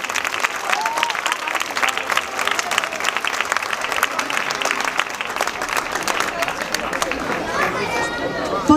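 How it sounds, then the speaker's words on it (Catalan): A crowd applauds steadily and densely at a town festival's opening proclamation outside the town hall balcony in Vilablareix, the clapping sustained throughout, with some chatter mixed in. "un fort aplaudiment per ells"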